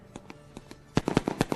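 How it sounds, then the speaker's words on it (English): Lone Wolf Fireworks explode over a race track after Sportsman ROC races at The Big O: a few scattered pops, then a rapid, louder string of sharp bangs and crackles. "Lone Wolf Fireworks lighting up the sky as Chad Chevalier gets the helmet off."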